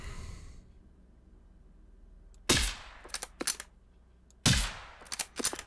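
Gunshots from a weapon in the video game Generation Zero: two sharp blasts a couple of seconds apart, each followed by a few quick fainter cracks, close and loud against a quiet background with no talk.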